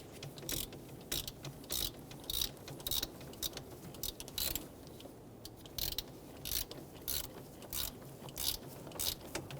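A ratchet snugs down an ignition coil bolt on a 4.7L V8 Toyota Tundra, giving repeated bursts of close, crisp clicking with short pauses between strokes, no talking.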